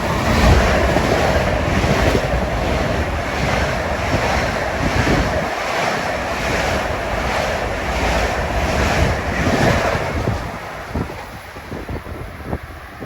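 A Long Island Rail Road commuter train bound for Ronkonkoma passes through Forest Hills station during the evening rush, a steady loud rumbling roar with rhythmic wheel clatter filling the whole stretch before easing slightly at the end.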